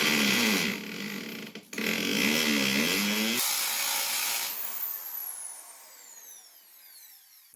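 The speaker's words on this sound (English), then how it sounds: "I'm going to drill 2 holes into the mortar this time with a concrete bit." A power drill with a concrete bit boring holes into mortar, a loud whining grind in two bursts, close by, then the motor spins down and trails off.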